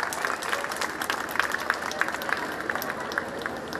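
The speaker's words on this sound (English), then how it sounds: "You heard a big round of applause." A school prize distribution audience applauds a first-prize winner, a thick, continuous round of clapping from many people in a hall, steady and fairly loud.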